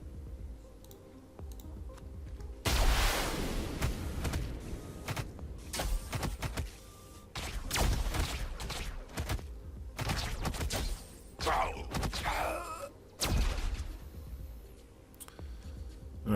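Weapons and missile fire in the space combat game Space Rogue: repeated sharp bursts and blasts of varying loudness over a quieter mechanical hum, with clicky gaps between volleys and no talk.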